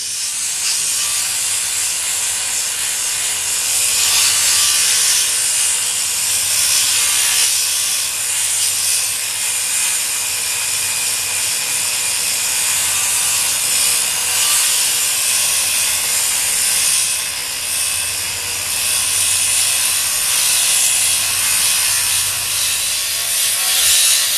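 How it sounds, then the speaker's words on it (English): A polishing machine with a 100 grit pad grinds granite, a loud, steady high-pitched hissing whine with a rough scraping texture that runs continuously, with no talk. "I'm going to go to 100 grit, and I'll go ahead and start grinding on it"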